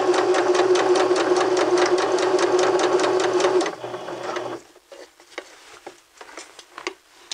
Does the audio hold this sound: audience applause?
no